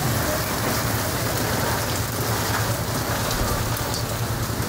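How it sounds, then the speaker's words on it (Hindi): Hail falling in cold, windy weather in Lahore, a steady dense patter of ice hitting surfaces that stays loud and continuous throughout, with no voices. "ओले पड़ने शुरू हो गए हैं"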